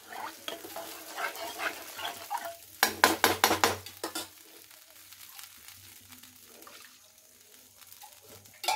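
Water from a rinsed mixer jar is poured into thick, sizzling gravy in a pan and stirred, giving bursts of scraping and bubbling, then a louder splashing stretch before settling into a quiet simmer.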